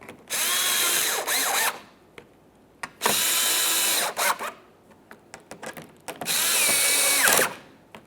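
A power tool drives the splash shield fasteners on a 2011-2020 Toyota Sienna in three loud, close bursts of whirring, each about a second long, separated by brief clicks and pauses.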